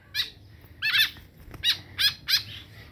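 Sick white-breasted woodswallow (kekep babi) giving a series of six or so short, harsh squawking calls at a steady rhythm, close and clear over a quiet background.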